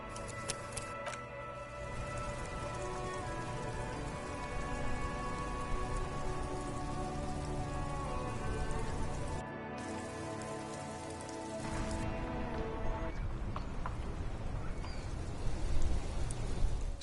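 Steady, loud rain falls in Disco Elysium, a dense continuous patter heard alone throughout, with layered ambient tones underneath.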